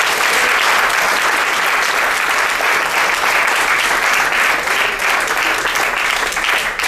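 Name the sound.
applause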